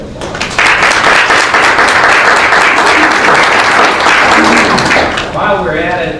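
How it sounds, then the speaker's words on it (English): An audience at a college board meeting breaks into loud applause after a quiet start, dense clapping that tapers near the end as a voice begins speaking over it. "So please give them a round of applause"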